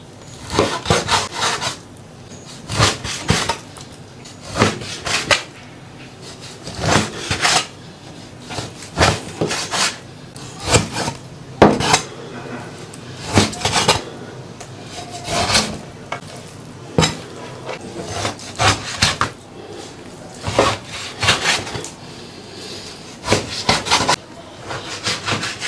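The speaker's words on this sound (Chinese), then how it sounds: "五花肉改下刀" A knife cuts pork belly on a wooden board, making repeated rasping, sawing strokes and thumps in uneven bursts, close and fairly loud, with no talking.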